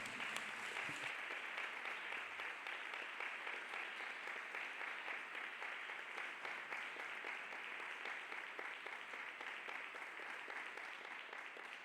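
Church congregation clapping hands for Jesus at a worship service, a dense steady wash of many hands applauding continuously throughout, fairly faint and distant, with no voices standing out.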